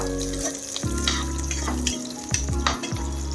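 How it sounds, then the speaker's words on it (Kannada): Green chillies drop into onions already frying in a pan for a spicy chicken fry, setting off a loud, steady sizzle with a few stirring scrapes and clatters throughout. "ಈಗ ಗ್ರೀನ್ ಚಿಲ್ಲಿ ಹಾಕ್ತಾ ಇದ್ದೀನಿ"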